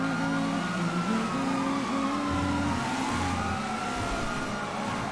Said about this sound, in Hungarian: Egy rendőr autó, de az is egyedül van.